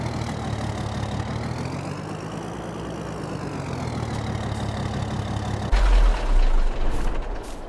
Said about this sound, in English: we're going to go ahead and get our trailer hooked up just so it's ready to go for tomorrow